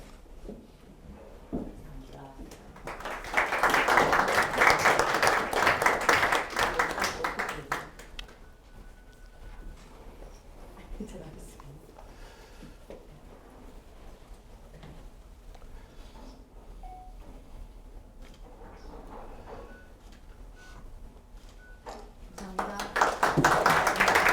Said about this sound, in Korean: 예, 다시 한번 박수 부탁드리겠습니다.